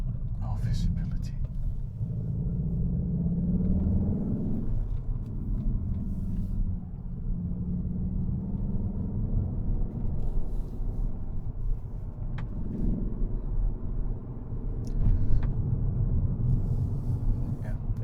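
A Cupra Leon with a manual-mode gearbox heard from inside the cabin at about 40 on an alpine pass road: a loud, steady low engine drone and rumble with slight rises in pitch, continuing under talk from the occupants.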